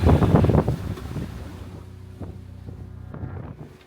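Strong wind roars across the microphone aboard a new aluminum sailboat in a night storm, with heavy wave surges and rushing water, loud at first then easing into a lower, steady gusting hum.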